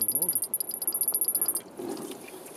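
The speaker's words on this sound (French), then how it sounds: "C'est que de l'eau qui coule." Water drains from the engine of a motorcycle that fell into a river, first in quick rhythmic glugging pulses, then settling into a steadier, softer close-up trickle.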